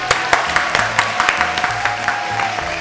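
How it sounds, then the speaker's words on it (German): Applause rings out in a casual home vlog, several hands clapping in quick, slightly uneven bursts close by, with a low steady hum running underneath. "An der Stelle bitte einen Applaus."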